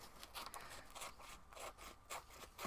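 Scissors cut through painted gelli plate paper in a series of quiet, close snipping and rustling strokes, repeating irregularly several times with no talking.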